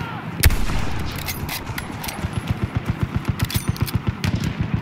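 Rapid automatic gunfire from a World War I era weapon in the Battlefield 1 video game, a single loud shot followed by a steady run of evenly spaced bursts over a noisy battlefield background.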